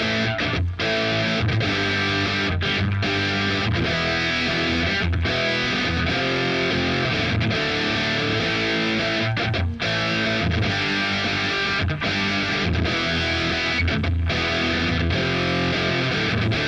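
Heavily distorted electric guitar drives through the chorus riff of a song, with dense, sustained chords and brief choppy breaks, loud and continuous throughout with no talking.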